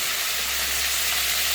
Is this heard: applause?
no